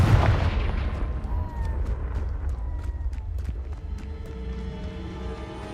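In the video game Hogwarts Legacy, a Confringo blasting spell goes off with a loud opening burst, then fades into rumbling, crackling echoes with scattered sharp impacts.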